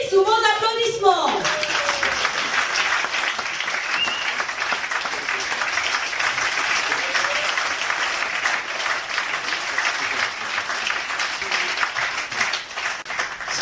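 An audience applauds at a live concert. A brief voice opens the passage, then dense, sustained clapping fills the room at an even level to the end.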